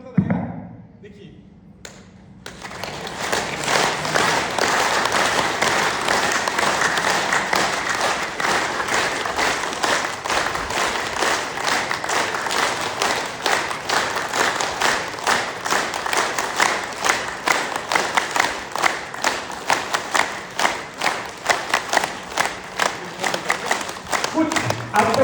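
An audience claps together in a steady rhythm at a gathering. The claps are sharp and evenly spaced, and they keep going for a long stretch with voices underneath.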